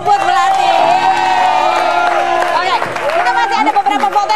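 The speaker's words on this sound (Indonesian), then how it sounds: "Tepuk tangan dulu buat Bubut Melati." A studio audience at an Indonesian TV gossip show claps and cheers together, loud whoops and applause filling the room for a few seconds before trailing off under an emerging voice.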